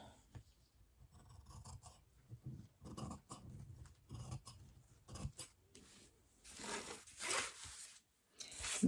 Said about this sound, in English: I'm just cutting that around a perfect square.